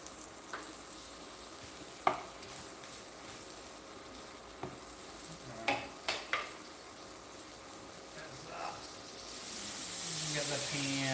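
Shrimp and vegetables simmering down in a pan, a soft steady sizzle broken by a few sharp clinks and scrapes of utensils, growing slightly louder toward the end, with no talk.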